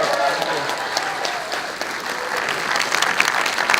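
Audience applause for a guest at a movie-night Q&A evening, dense sustained clapping filling the room at steady loudness, with some voices mixed in.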